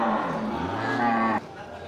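Simmental breeding cows low at close range, one long, steady moo holding its pitch for over a second before cutting off, with quiet barn ambience afterward.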